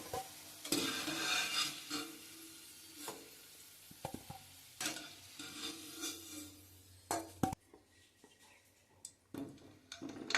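Amla, Indian gooseberries, frying in a pan while being stirred, with a sizzle broken by scraping and clinking of the utensil against the pan, uneven bursts that thin out toward a quieter end.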